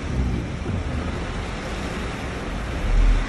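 Road traffic during a typhoon with heavy rain: a dense, steady roar of wind, rain and passing vehicles, broadband and continuous, swelling slightly near the end, with no talk.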